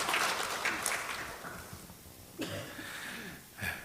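A church congregation applauds its choir, a faint diffuse patter of clapping that fades out early, then coughs and scattered shuffling noises.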